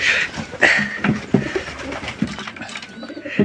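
Pigeons coo softly in low, throaty bursts inside a coop, several calls overlapping close by with a faint higher chirp now and then.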